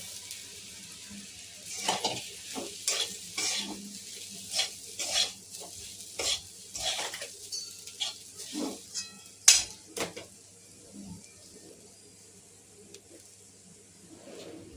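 Ground soybean being stirred and sautéed with red chili powder in a pan, a spoon scraping and knocking in irregular strokes over a low sizzle, close and fairly quiet, with a few sharper utensil clinks.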